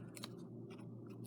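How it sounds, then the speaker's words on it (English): Small scissors snip through paper strips for an elf paper chain, a few quick crisp cuts close by over a low steady background hum, with no talking. "where Miss Kashna cuts with scissors"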